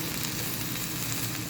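Boiled drumstick pieces (muringakkai) dropped into a hot frying pan for a Kerala thoran, giving a steady, dense sizzle that holds evenly throughout, close and moderately loud, with no talking.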